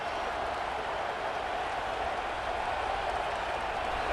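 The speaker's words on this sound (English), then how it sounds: "with this place rocking, the crowd forces a false start" Stadium crowd roaring at a Florida at Ohio State football game, a dense, sustained roar of noise that stays loud and even throughout.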